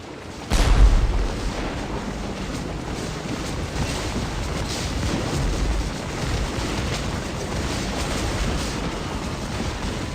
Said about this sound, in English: We arrived at the railway cut as the Yankees fired cannon fire into our ranks